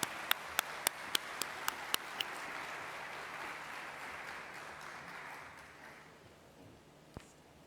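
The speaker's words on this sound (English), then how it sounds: "Can you give her a warm welcome of applause?" Conference audience at a gender-based violence forum in Kenya, with a few sharp isolated claps at first, then sustained, moderately distant applause that fades out over several seconds, ending with one last clap.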